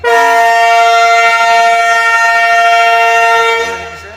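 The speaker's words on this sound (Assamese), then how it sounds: "এতিয়া হুইচেল মানে হৰেণ বজাই দিছে চাওক" A loud, sustained train horn blares close by at a railway station for about three and a half seconds, then fades as it cuts off.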